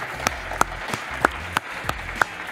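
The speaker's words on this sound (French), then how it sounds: "Un, grand applaudissement pour Pierre-Marie Perrin" Sparse, scattered claps from a small audience greeting Pierre-Marie Perrin, public affairs director, on an Amiens city programme; about eight distinct hand claps spread unevenly over a couple of seconds, fairly close and moderately loud.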